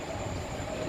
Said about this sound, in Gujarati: હા મિત્રો, ટ્રેન ઉપડી ગઈ છે.